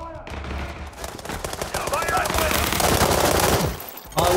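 Gunfire in the PC game World War 3: rapid automatic bursts and overlapping shots, loud and close, running almost continuously before cutting off near the end, with a voice audible in places.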